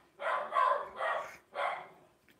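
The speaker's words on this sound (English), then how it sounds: "That's the dog letting me know something's happening." A dog barks four times in a quick, evenly spaced series, close by and loud in an otherwise quiet indoor room.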